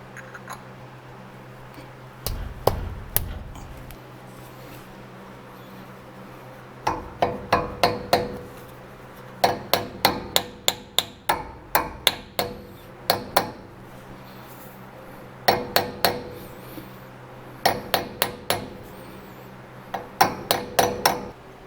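Dust cap tapped onto the wheel hub of a 1986 GMC Square Body truck, groups of sharp metallic knocks in short rhythmic bursts with pauses between, close and fairly loud.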